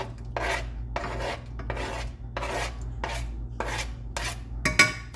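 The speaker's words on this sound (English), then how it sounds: "I'm just going to take it and scrape that into my pan here" A utensil scraping peach puree into a pan in a home kitchen, seven or eight rhythmic rasping strokes at close range, no voices.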